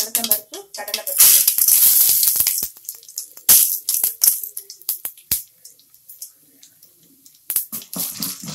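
Mustard seeds drop into hot oil for beetroot poriyal, setting off loud sputtering bursts and crackling pops that come in uneven clusters before fading to scattered spits.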